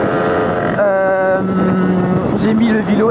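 A tuned Airsal Xtrem 80cc moped engine with a new piston, cylinder and head runs loud and close, a buzzing two-stroke note that holds steady, rises in pitch, then wavers as the throttle moves, with no talk.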